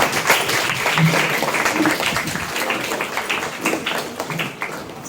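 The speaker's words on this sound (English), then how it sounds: "let's give a big round of applause to Haji Saab" School audience applause for the campus founder, a dense, steady wash of many hands clapping at moderate loudness, with a faint voice underneath.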